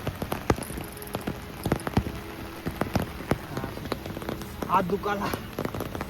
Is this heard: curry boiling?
no